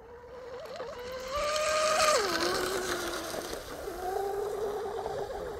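A 34-inch carbon Oxidean Scorpion RC outrigger boat motor whines as it warms up, its pitch rising and falling with throttle blips, fairly close and alone.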